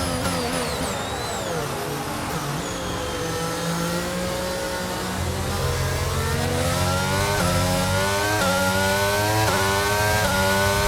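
A race car engine in a racing video game revs up and accelerates, its pitch climbing through gear changes in a loud, continuous whine that stays up close.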